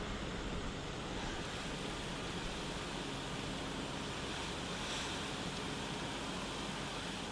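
A fire hose throwing a heavy stream of water toward a Ford pickup outdoors, a constant loud hiss and roar of spray that holds steady without pause.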